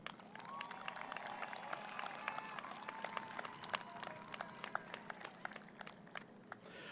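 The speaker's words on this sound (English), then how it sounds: "give them one final round of applause and appreciation" Audience applause at a 2020 high school graduation ceremony, a steady wash of many hands clapping at moderate distance with scattered cheers throughout, fairly soft overall.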